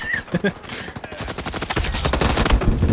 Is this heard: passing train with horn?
no